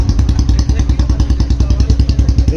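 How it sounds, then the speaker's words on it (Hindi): Royal Enfield Bullet 350 single-cylinder engine blipped on the throttle, a loud, close, fast rhythmic thumping exhaust beat that pulses steadily throughout. "इसका भाई जो ये थ्रॉटल लेने के बाद जिस टाइप से साउंड कर रहा है ना"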